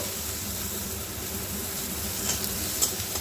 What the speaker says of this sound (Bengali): রসুনটা একটু নাড়াচাড়া করে ভেজে নেব